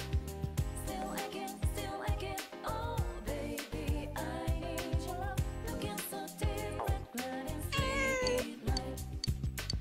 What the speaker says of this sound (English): The cat has noticed you.